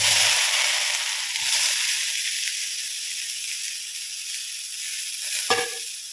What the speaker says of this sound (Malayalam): രസം തയ്യാറാക്കാനുള്ള പാൻ വെച്ച് കുറച്ച് എണ്ണ ഒഴിച്ചു കൊടുത്തിട്ടുണ്ട് അതിലേക്ക് നമുക്ക് ചതച്ച് വെച്ചിരിക്കുന്ന അരപ്പിട്ട്